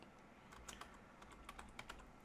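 Soft, quick keystrokes on a computer keyboard tap out a short word in an irregular burst, faint and close, with no talk.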